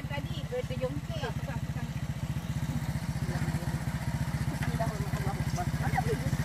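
A motorcycle engine idles steadily close by on a trip through Perlis, Malaysia, its rapid even chugging running throughout while people talk over it.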